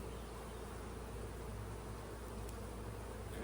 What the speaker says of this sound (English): looks like a decent amount of bees still on the front there